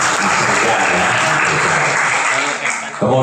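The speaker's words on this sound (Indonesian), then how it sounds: "Tepuk tangan." Audience at the opening of a school Islamic youth organisation conference in Semarang applauds in a loud, dense burst that carries on steadily, dips briefly near the end, then swells again.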